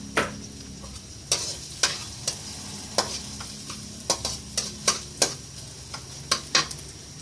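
Minced garlic sizzling in a little oil for plain fried rice, a steady close hiss punctuated by sharp clicks and scrapes of stirring, with no one speaking.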